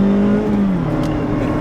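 A Mazda Miata RF Grand Touring's engine revs as it winds up through the RPM range, a loud, close, rising then steady drone that fills the whole moment with no one talking.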